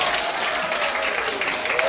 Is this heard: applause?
yes